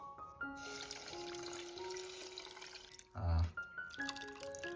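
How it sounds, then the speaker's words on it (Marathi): Water poured into a Konkan-style mandeli fish curry, heard as trickling and splashing with a brief louder gush near the end over faint background tones. "आपण पाणी जास्त टाकणार आहोत"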